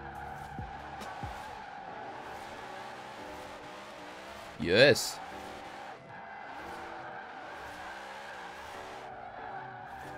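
A Zenvo TSR-S drifts in a racing video game: a constant engine drone is cut midway by one sharp, rising tire squeal that fades back into the engine, and a voice speaks briefly near the start.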